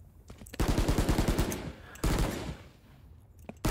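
Rapid bursts of video game gunfire, a long rattling volley followed by a second shorter burst, loud and close, with a brief shot at the end.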